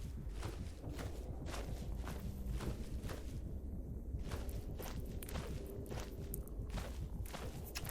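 Repeated heavy stomping footsteps of a player character in the video game Cataclysm DDA, a steady walking rhythm of thuds running the whole time over a dense game background, close and loud, with no talking.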